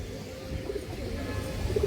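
Soft, low cooing from a large, pure-bred female Army pigeon, a few faint murmuring coos close by under steady background hum.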